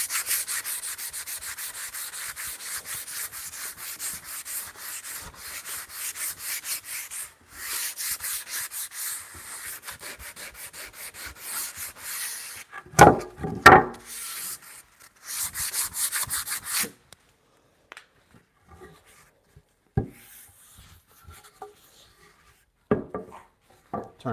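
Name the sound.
hand plane planing softwood timber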